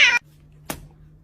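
A cat gives a short, bright meow at the start, followed after a pause by a second brief, softer vocal burst, close and clear over a quiet background hum.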